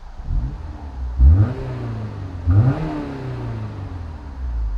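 A Honda S2000 AP1 engine revs hard twice in quick succession, each roar rising and falling back to a steady idle, close and loud.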